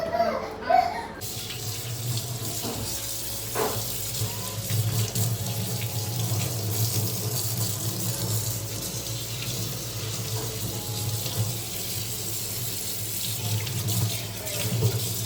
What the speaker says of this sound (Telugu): నీళ్ళతో కడిగేస్తాను